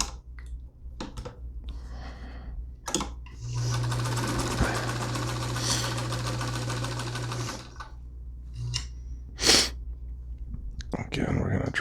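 A vintage Lenco sewing machine stitching a straight seam in a steady, fast, whirring run of about four seconds, with a shorter burst later, surrounded by soft handling clicks and quiet speech.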